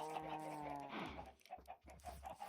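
Chickens in the Minecraft video game cluck in a few quick, faint bursts, alone and without talk.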